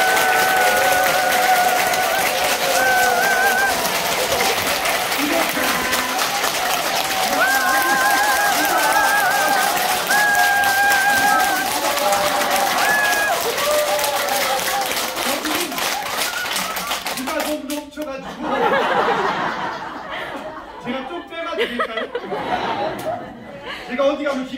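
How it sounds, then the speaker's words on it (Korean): Lecture audience in a Korean special-lecture hall bursts into loud, dense applause that follows a stretch of someone talking over a microphone, ending in scattered clapping and laughter. "박수를 대충 쳐야 될까 제대로 쳐야 될까? 제대로 쳐야 됩니다."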